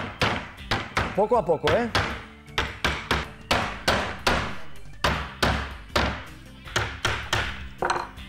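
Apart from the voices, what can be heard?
hammering nails back into a wooden piece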